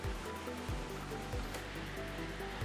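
Filtered peanut oil pours from a row of taps in a groundnut oil factory, a loud, continuous rushing hiss with low machinery rumble pulsing underneath, no voices.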